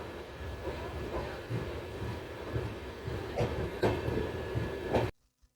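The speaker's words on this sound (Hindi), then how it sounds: "अपने ट्रेन का अराइवल बड़ा गुडा रेलवे स्टेशन से।" A train arrives at Badagaon railway station, rumbling along steadily with faint rhythmic clacks and a few sharper knocks, moderately distant, before cutting off abruptly.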